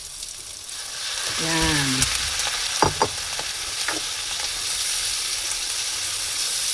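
Boiled pork trotters going into a hot pan for balbacua, giving a steady frying sizzle with a stirring clatter, while a voice briefly speaks over it.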